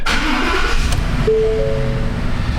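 A car with a tire pressure warning and suspected misfire cranks briefly and catches, then settles into a loud close idle with a steady hum, no talk.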